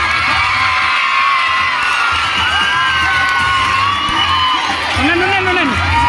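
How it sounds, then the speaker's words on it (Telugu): A school event crowd cheers and shouts for guests, with children's high voices whooping and calling together in a loud, sustained roar that swells near the end. "అందరూ కూడా ఒకసారి బిగ్ క్లాప్ ధన్యవాదాలు తెలియజేయండి"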